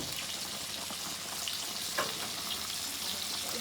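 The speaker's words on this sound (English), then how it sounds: "And I got the peas boiling over here." Peas boiling in a pot on a home kitchen stove, a steady close bubbling and sizzling hiss running continuously, with a few faint clinks and stirring sounds.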